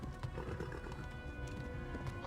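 Hooves of a horse galloping in the Kingdom Come: Deliverance video game drum in a steady, rapid rhythm under a dense background rumble, with no talking.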